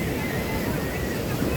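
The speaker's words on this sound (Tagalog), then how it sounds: "Yan na lang ang alon oh." Waves wash steadily near a flooded waterside spot where a house was swept away, a constant broadband roar of surf and wind with no voices.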